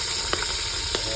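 Garlic and onion sauté in a hot pan, a loud continuous close hiss with two faint scraping touches over a short stretch, nobody speaking.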